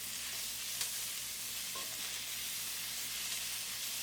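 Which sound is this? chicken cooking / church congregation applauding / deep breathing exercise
chicken cooking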